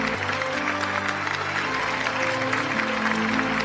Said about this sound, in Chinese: 我们在这里呢也再次把充满敬意的掌声送给牛奔老师